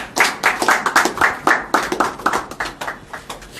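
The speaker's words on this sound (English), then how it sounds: "Someone should give him a round of applause." A small audience at a branding talk in a Sheda House session claps for a participant. The claps are sharp and rhythmic and fairly close, with only a few hands, and grow softer toward the end.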